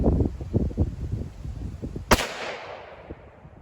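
A single rifle shot firing Hornady Black 450 Bushmaster ammunition, one sharp loud crack midway followed by a fading outdoor tail, preceded by low rumbling background noise.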